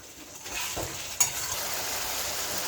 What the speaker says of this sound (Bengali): এবার আলুগুলো দিয়ে দেবো, দিয়ে খুব হালকা আছে কষাবো